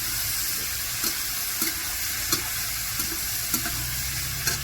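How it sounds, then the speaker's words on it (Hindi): Boiled kidney beans frying in a pan, a steady hiss of sizzling oil broken at regular intervals by short scraping clicks of a stirring spoon, with no talking. "अखन एकरा हम भूज रहलियै अच्छी तरह से"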